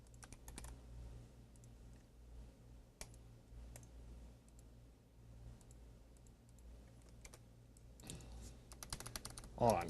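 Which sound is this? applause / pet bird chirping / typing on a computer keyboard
typing on a computer keyboard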